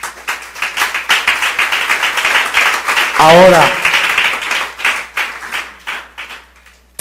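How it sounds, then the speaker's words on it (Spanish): Congregation applause in a church service, continuous clapping that rises and falls, with a voice speaking over it midway before the clapping tapers off at the end. "Un aplauso al Señor por la vida de esta familia que está llegando."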